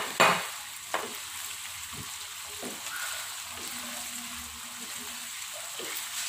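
Shrimp tofu frying in a pan in a Padang sauce dish, a loud splash and burst of sizzle as it goes in, then a softer steady sizzle with occasional clinks and stirring sounds, close up and without speech.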